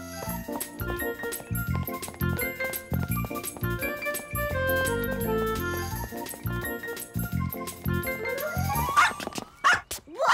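A dog barks repeatedly in short bursts along a running route, the barks set against a busy bed of music and jingling tones, with no talk.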